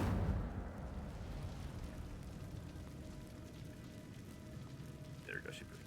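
A fire spell is cast in Hogwarts Legacy on Xbox Series S|X, a steady rumbling whoosh that swells at the start and holds under the game's ambient sound, with a brief bright accent near the end.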